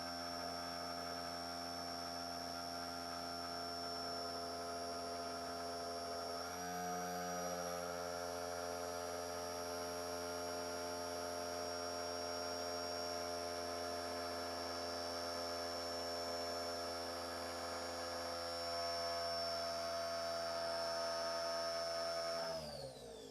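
A brushless outrunner motor spins homemade 3D-printed RC helicopter blades with a steady, close, multi-toned electric whine that holds for about twenty seconds, then winds down sharply at the end.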